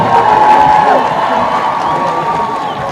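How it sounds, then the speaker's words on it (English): Graduates at a university graduation ceremony clap and cheer for others taking their positions, a loud crowd burst of applause and whoops lasting a few seconds. "let us clap for them as they take their positions"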